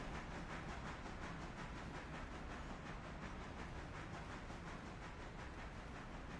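A 29-car, 1,239-ton freight train heading toward the Alarka grade gives off a faint, steady broadband rumble and hiss, with a soft rhythmic clatter running underneath.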